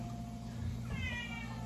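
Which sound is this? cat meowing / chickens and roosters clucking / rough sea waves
cat meowing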